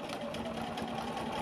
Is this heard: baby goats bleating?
no